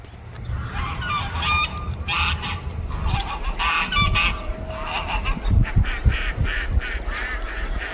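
Several backyard ducks honk and squawk repeatedly nearby, loud, overlapping calls in bursts against a quiet outdoor background.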